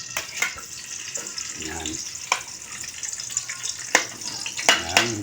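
Garlic sautéing in a hot pan for a squid dish, a continuous frying crackle with scattered sharp clinks and scrapes of a utensil, and a few brief words spoken over it.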